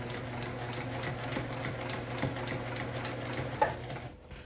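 A sewing machine runs quietly as it stitches worn towel fabric in place. It gives a fast, even mechanical ticking that carries on steadily, then stops abruptly just before the end.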